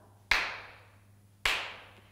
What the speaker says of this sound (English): You ready to clap two times?